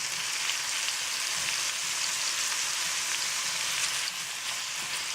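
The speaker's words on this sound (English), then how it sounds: "add our raisins and sliced peeled apple. I'm going to saute these" Raisins and sliced peeled apple sautéing in a hot pan on the stove for a curried apple dish, giving a steady, close, even sizzle that holds for the whole stretch with no talking.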